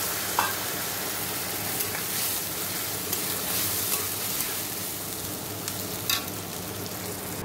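Ground mustard and poppy seed paste going into a hot pan with chicken, a steady sizzle punctuated by occasional scrapes and knocks of a spatula as it is stirred.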